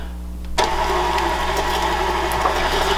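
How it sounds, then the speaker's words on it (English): A stand mixer whirs to life at slow speed with a sudden start, then runs as a steady close motor hum with a faint rhythmic knock from the beater. "Then I'm going to start the mixer back up on a slow speed"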